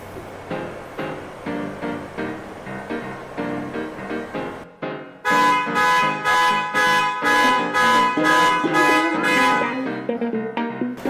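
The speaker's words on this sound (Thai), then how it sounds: "ถ้ามีคนเปิดประตูเนี่ยเดี๋ยวก็จะมีเสียงแตร แล้วก็มีเสียง แล้วก็มีไฟเตือนครับ" A Deepal car's anti-theft alarm blares in loud, rapid repeated horn pulses, shifting to a harsher, louder pattern midway, continuing without pause.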